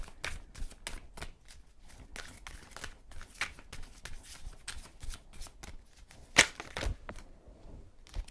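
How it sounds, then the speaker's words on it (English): Tarot cards are shuffled by hand in a steady run of crisp riffling flutters and soft slaps, close up and continuous, with no talk over it. "Two cards on the table."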